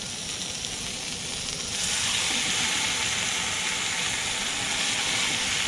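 Potato hash and turkey bacon fry on a firebox stove inside an ice fishing shelter, giving a continuous close crackling sizzle that swells louder after the first two seconds and holds steady, with no talking.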